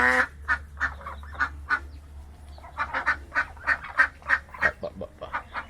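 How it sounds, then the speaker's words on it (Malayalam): Ducks and chickens call outdoors in a series of repeated honking quacks, close and fairly loud, coming in quick rhythmic bursts over a low background hum. "കോഴിയും താറാവും കാര്യങ്ങളൊക്കെ ഉണ്ട്."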